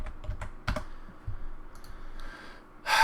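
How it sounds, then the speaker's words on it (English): Computer keyboard keys clicking up close in a few quick irregular bursts, then a pause, with a louder rustle at the end. "My keyboard not working?"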